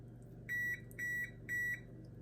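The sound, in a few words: oven preheat ready beep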